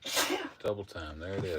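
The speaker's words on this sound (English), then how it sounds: "She's sneezing." A woman sneezes once, sharply and close, at the very start, followed by someone talking over a quiet indoor background.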